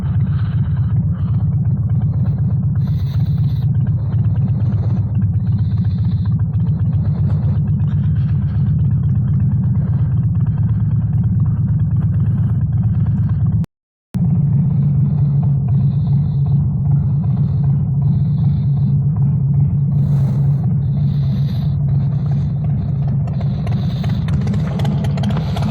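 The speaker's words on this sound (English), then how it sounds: "That exhaust is from a company called Blow Performance." Steady motorcycle engine and aftermarket exhaust from Blow Performance during a ride, a continuous low rumble held near and loud for the whole stretch with only a very brief cutout partway through.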